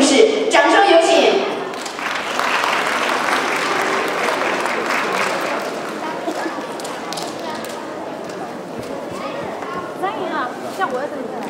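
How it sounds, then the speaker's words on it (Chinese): An audience claps at a Chinese-language school's 2014 graduation ceremony in Atlanta. Steady, sustained applause rises after a brief burst of voices at the start and carries on evenly to the end. "掌声有请"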